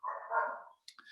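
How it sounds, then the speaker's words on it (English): A pet dog barks at home during a virtual book event, a burst of loud, close barking with a few yelps that fades and is followed by brief higher yips. "I'm sorry that my dog just interrupted you at the end there"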